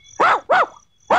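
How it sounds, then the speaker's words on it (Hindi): A trained dog barking on command in a film scene, three loud, sharp barks close by, the first two quickly paired and the third after a short pause. "भौंको, जोर से भौंको।"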